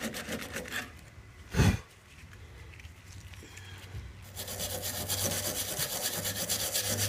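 Sanding paint off a 23-year-old Honda CBR 600 F3 sheet-metal fuel tank, a steady close rasping scrape with one brief louder knock early on, the rubbing growing denser toward the end.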